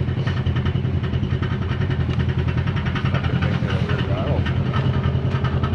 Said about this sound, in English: Yep, good old Can-Am exhaust for you.